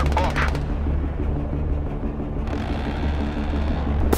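Cold War-era combat in DCS World: a burst of gunfire hits an aircraft, sharp rattling impacts at the start, then a steady engine drone with more crackling hits later.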